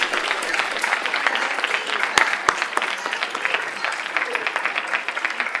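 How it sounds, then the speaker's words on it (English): A round of applause for the finalists at a postdoc research talk competition, an audience clapping steadily and fairly close, with a couple of sharp louder claps standing out and brief voices underneath. "Another round of applause for them."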